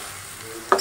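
Potatoes with spice paste being fried and stirred in a pan for Kashmiri aloo dum, a steady low sizzle with a sudden louder scrape of stirring near the end.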